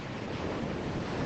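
Steady broadband surf of ocean waves on a beach at sunset, a continuous wash roaring evenly throughout with some wind noise on the microphone.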